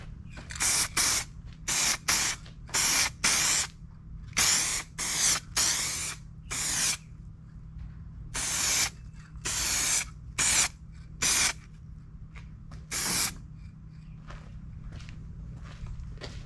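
Aerosol spray paint hissing onto interior car plastic trim in short close bursts, roughly a dozen separate sprays of varying length with gaps between, then a few quieter clicks and puffs.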